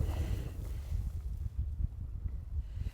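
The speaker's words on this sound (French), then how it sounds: "Il y a des grosses rafales qui se sont levées." Strong winter wind gusts buffet the microphone outdoors at a snowy bivouac, with a continuous low roar and rough, uneven pulses.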